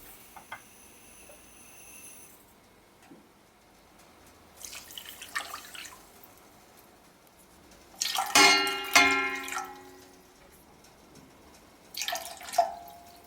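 Water poured into a pot with sugar for syrup, heard as a few separate bursts of splashing and trickling liquid between quiet pauses, the loudest pour near the middle, close and without talking.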